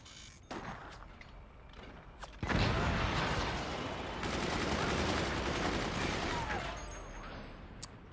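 Guns auto-fire in the Forts video game, sharp shots first, then a sudden dense barrage of rapid overlapping fire that stays loud for several seconds before easing off.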